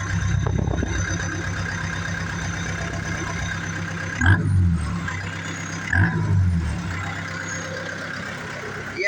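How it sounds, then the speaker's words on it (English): A Branson 7845 four-cylinder turbo diesel tractor runs steadily up close with a continuous low rumble and a faint turbo whine, and two brief surges of revving rise out of the drone partway through. "And listen to this tractor."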